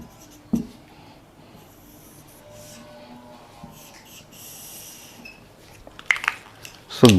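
Chalk or marker scratching and tapping on a board during a physics lecture on gravitational potential, a run of soft strokes with a few sharper knocks, near and moderately quiet with little talk.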